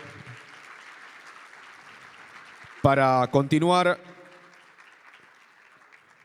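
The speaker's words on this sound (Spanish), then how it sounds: "Y los vamos a despedir con un fuerte aplauso a cada uno de ellos" An audience at a public budget seminar applauds the speakers in a short, loud burst of about a second, after quiet background chatter and a voice.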